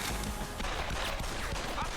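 Video game gunfire, a dense, loud burst of shots and crashing impacts crowding the whole moment, with a voice faintly mixed in underneath.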